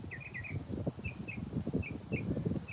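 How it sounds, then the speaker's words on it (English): Small birds chirp in short repeated bursts from a cherry plum tree, fairly close, over a low rumbling background of outdoor noise. "you can hear the birds"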